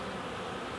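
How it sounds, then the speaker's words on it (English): Busy honey bees at a hive entrance, a dense continuous buzzing hum of many insects, steady and close with no pauses. "There's quite a few bees in this hive"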